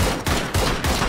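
Rapid, loud, close bursts of gunfire from the game PUBG, with sharp shots repeating in a steady rhythm through the whole moment.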